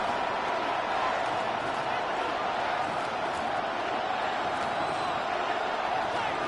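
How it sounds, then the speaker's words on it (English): Dense, steady roar of a football stadium crowd late in a close game during a final timeout before third and long, a broad continuous wall of cheering and noise with no single voice standing out. "This crowd turning up the decibel level."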